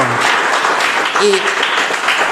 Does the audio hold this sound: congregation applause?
yes